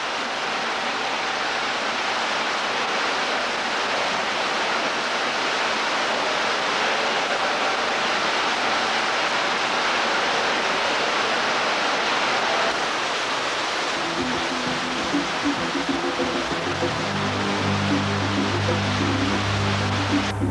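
Underground waterfall roaring in the northern network of the Fontaine de Nîmes cave system, a steady, dense wash of falling water heard close and loud throughout, with a low droning tone entering in the final seconds.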